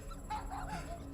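Cosmo, the space dog in the Guardians of the Galaxy video game, gives a brief whimpering yip. It is a single short, close, moderately loud vocalization over a low background hum.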